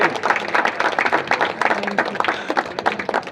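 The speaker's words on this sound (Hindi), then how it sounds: "जोर से ताली देके प्रभु को धन्यवाद दे।" Worshippers at a church service clap loudly to thank God after a worship song, an uneven burst of many hands with distinct individual claps standing out throughout.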